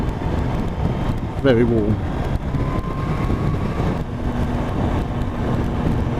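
Kawasaki H2 SX SE motorcycle engine running at steady speed on a hot day, with a steady engine drone and wind rush and a couple of faint pitch sweeps, while a rider talks over it.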